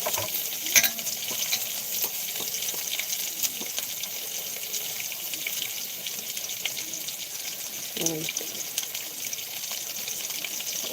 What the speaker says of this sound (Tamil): வெங்காயம் வதக்கிறேன்